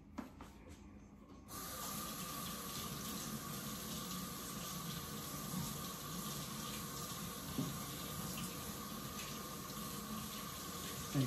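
Tap water streaming steadily into a kitchen sink while vegetables are rinsed under it, a constant close splashing rush that starts abruptly after a quiet second or so and carries on alone.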